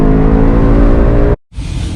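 A 2020 Ford Mustang GT Performance Pack fitted with BMR lowering springs drones loudly under full throttle with a rich, steady engine tone. The sound cuts out abruptly for a moment, then resumes somewhat quieter.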